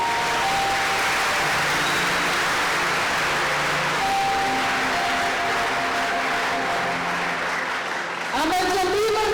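A church congregation applauds in a steady, sustained burst of clapping that fills the whole stretch, with a voice rising over it near the end.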